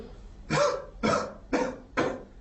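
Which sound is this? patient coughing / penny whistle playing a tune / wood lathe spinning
patient coughing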